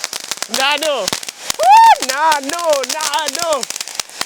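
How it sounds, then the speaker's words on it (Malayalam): A small multicolour Diwali firecracker burns with faint, scattered crackles beneath a person talking clearly throughout. "മൾട്ടി കളറിൽ നിന്ന് കത്തിക്കൊള്ളൂട്ടോ"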